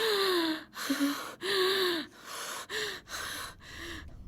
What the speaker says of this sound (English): he began to gasp for breath